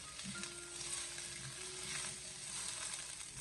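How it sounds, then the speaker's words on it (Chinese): Shredded radish stir-fried over high heat in a wok, a continuous soft hiss of frying with faint tossing scrapes, steady and fairly quiet, with no voices. "接着再下切好的萝卜丝，然后再将火候调为大火，将它快速的翻炒一下"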